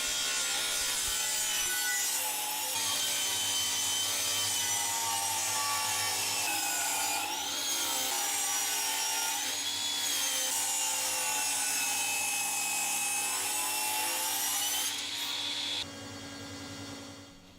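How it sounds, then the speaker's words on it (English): Table saw ripping reclaimed scaffold boards to width, trimming off the unplaned edge: a loud, sustained whining cut with a shifting pitch as the wood feeds through, ending with the blade freewheeling after the cut. "It's now over to the table saw to rip the boards down to the same width by removing the unplaned edge."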